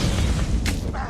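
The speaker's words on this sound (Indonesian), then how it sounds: "pistol itu langsung meledak dan membuat kepala White Death langsung hancur" A booby-trapped pistol explodes in a scene from the film Bullet Train, a loud heavy boom with deep low rumble and a sharp bright burst partway through, fading into a brief crackling tail.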